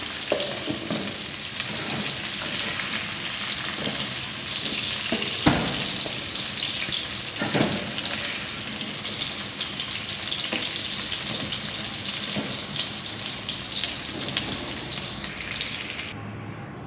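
Cauliflower pieces for gobi chicken frying in hot oil, a steady close crackling sizzle with occasional sharper pops and stirring scrapes, continuous for the whole stretch, with no talking.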